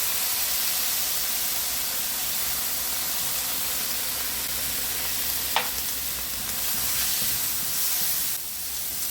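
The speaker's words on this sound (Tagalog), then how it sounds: "Ginigisa na natin yung bawang." Garlic sautéing in a pan for a fish puchero, a steady close-up sizzle and hiss of hot oil that runs throughout, with one brief click partway through.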